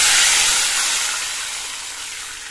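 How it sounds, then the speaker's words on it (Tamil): Tamarind water hits hot oil in a pan for a crab soup tempering, a loud broad sizzling hiss that starts strong and slowly fades over a few seconds, heard alone. "அடுத்தது கரைச்சி வச்ச புளி தண்ணியை சேர்த்தலாம்."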